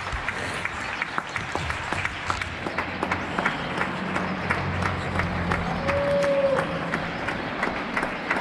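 Neighbours in Getxo clap from balconies for health workers, a steady patter of many hands spread across the surrounding buildings, moderately distant and sustained throughout, with a brief whistle partway through.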